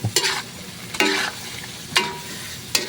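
Batikulon adobo simmering in coconut milk is stirred in a pan, four distinct scraping strokes spaced about a second apart over a soft background sizzle, near and clear with no voices.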